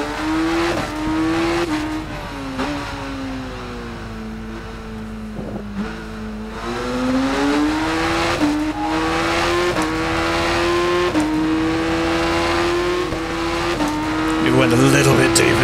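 A 1998 Yamaha YZF-R7 screams through gear changes while racing in Ride 5, its high engine whine rising and dropping steadily and loud, with wet-track rain noise beneath and someone talking over it.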